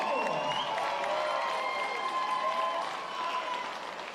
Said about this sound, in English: we get another big round of applause for both of these fighters